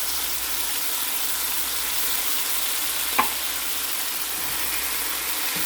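Sardines in tomato sauce sizzle steadily in a hot pan, a dense, even frying hiss throughout with one brief clink near the middle and no talk.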